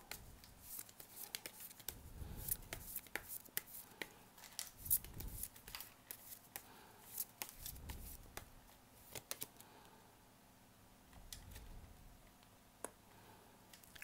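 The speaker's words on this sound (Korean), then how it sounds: "3번 분들 조언 카드 뽑아볼게요" A deck of tarot cards is shuffled and drawn, close and fairly quiet. Soft riffling swishes come in bursts of a second or so, mixed with sharp flicks and taps, and no one speaks.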